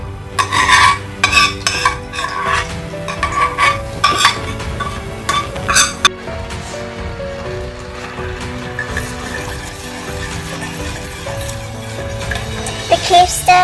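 Red curry paste being stirred into coconut milk in a pot for Thai beef red curry, with repeated scraping and clinking strokes of a utensil against the pot, fairly close, joined by background music tones.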